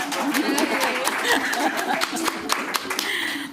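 Audience at a Brighton AANHPI Heritage Month panel event applauding for Abbas, a steady wash of clapping with scattered chatter and light laughter throughout.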